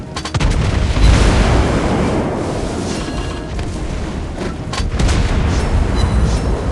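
Heavy cruiser naval guns firing in World of Warships: deep, booming salvos rolling one into another, loud and sustained, with sharper cracks on top.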